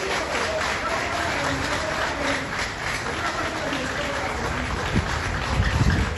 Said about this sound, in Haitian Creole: Je demande un applaudissement pour le panel.